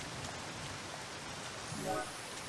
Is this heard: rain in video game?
yes